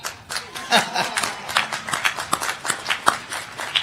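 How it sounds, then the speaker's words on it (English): Scattered hand clapping from a commencement audience, a loose burst of claps with uneven rhythm that stays fairly close and moderately loud before thinning out. "Now you can clap on that."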